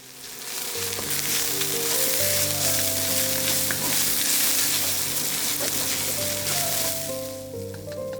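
Minced pork searing hard in a hot pan for a Thai holy basil stir fry, a loud, sustained crackling sizzle with occasional spatula scrapes, fading slightly at the end.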